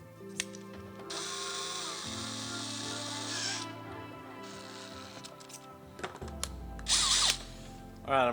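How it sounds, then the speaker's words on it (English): A drill countersinks holes in an aircraft fuel tank bay during an experimental aircraft build, a steady whining motor with shifting pitch that runs close and continuous, with a few rattles and a higher burst near the end. "But we've got to countersink the center holes."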